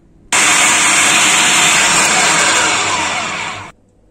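Sugar, cocoa and chocolate powder are being mixed by machine for gluten-free coconut ghoriba cookies. A loud, steady motor whir starts abruptly, holds for about three and a half seconds with a slight fade, then cuts off.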